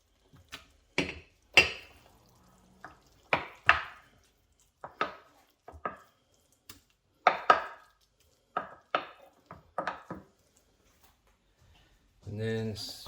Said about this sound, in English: Add your mince mixture.